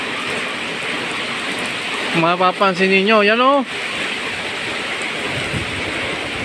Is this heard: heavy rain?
yes